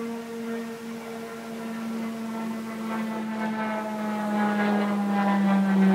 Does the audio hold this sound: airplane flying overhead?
yes